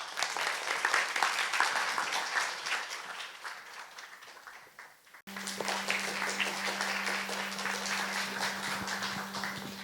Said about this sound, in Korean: 저희는 이 분들의 무대를 박수로 청해 볼게요